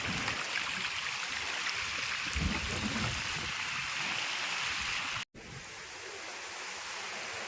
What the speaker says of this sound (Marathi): हा जो पाणी आहे खाली धबधबा आहे